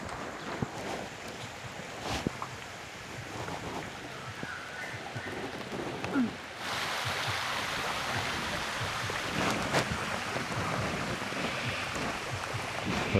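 A boat carries passengers along a jungle waterway in Thailand on the way to a large waterfall, with a steady broad wash of engine and rushing water that stays constant and fairly close, growing slightly fuller halfway through, with no talking.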